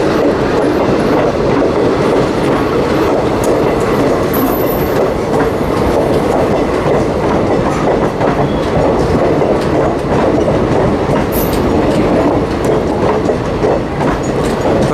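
An Amrit Bharat Express train with blue ICF coaches runs at speed in a loud, continuous roar of wheels on rails, with steady clickety-clack and occasional faint high squeals throughout.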